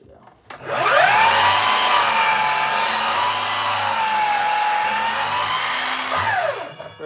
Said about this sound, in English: For a battery-powered miter saw, this thing does pretty good.